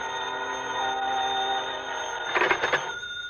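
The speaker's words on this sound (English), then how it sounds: "I waited in the phone booth until Jim called me back." A telephone bell rings in a phone booth as a radio drama effect, with one short burst of rapid, trilling rings near the end that sound moderately loud over a steady electronic hum.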